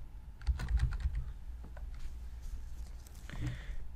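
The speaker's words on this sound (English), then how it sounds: "And type in your title." A report title typed on a computer keyboard, rapid close key clicks in an uneven run over a low background rumble, with no one speaking.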